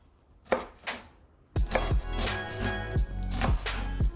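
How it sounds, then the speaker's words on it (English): A knife slices kimchi thinly on a cutting board: two soft cuts, then a steady run of close, rhythmic thuds against the board, with no talking. "Get the kimchi on the cutting board and slice thinly"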